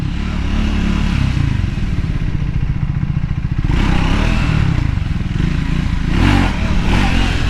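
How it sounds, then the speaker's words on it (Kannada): A lightweight Triumph Speed 400 motorcycle revving hard during a wheelie attempt, a loud, close engine roar that holds steady, rises and surges again, with some mechanical clatter. "ಟ್ರೈ ಮಾಡೋಣ ವೀಲಿ. ಈ ಲೈಟ್ ವೆಯ್ಟ್ ಗಾಡಿ ಓಡಿಸಿದ್ರೆ ಇದೊಂಥರ ಖುಷಿ."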